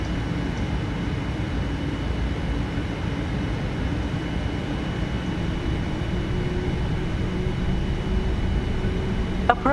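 A steady, loud low roar of Boeing 787-8 engines during the takeoff roll in the Prepar3D flight simulator, continuous and even throughout with no talking.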